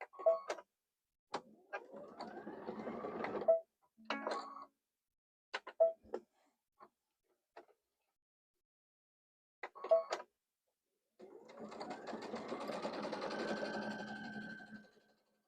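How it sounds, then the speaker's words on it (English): A sewing machine stitches down the middle of a cactus quilt in short bursts and longer runs of rapid mechanical whirring, close and clear with pauses of silence between. "So I'm going to stitch down the middle because we're a little bit too big."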